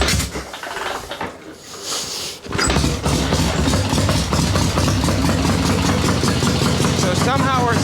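A swap meet chopper motorcycle with flooding problems kicks over and fires, its engine catching around the midpoint and then running steadily and loudly after some rustling and a brief pause.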